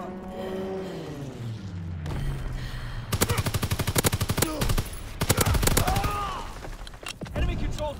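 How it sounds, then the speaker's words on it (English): Fighter aircraft machine guns rattle through a strafing run in a World War II style video game, with two loud rapid bursts of gunfire after an opening stretch of game voice and engine drone. "Fighter aircraft ready. Call for a strafing run."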